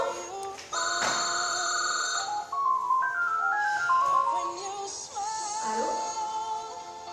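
A telephone ringtone plays a repeating electronic melody for several seconds indoors, steady and fairly loud, with faint background noise and a brief pause midway.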